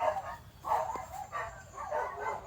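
Dogs bark outdoors in a garden, several rounds of barks in an uneven rhythm at moderate distance.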